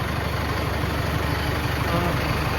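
A tractor engine running steadily nearby, a low, even idling rumble that stays constant throughout with no clear voices on top.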